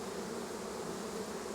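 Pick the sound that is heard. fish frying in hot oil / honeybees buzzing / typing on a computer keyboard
honeybees buzzing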